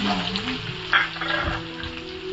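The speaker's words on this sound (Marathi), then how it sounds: "कांदा परतून घेऊया तेलामध्ये" Chopped onion sautéing in hot oil, with grated ginger and minced garlic in the pan, giving a close, continuous sizzle and crackle with a brief louder spatter partway through.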